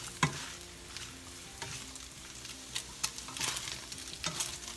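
Onion and dried chiles frying in a pan: steady close sizzling broken by scattered scraping and stirring clicks, with no voices.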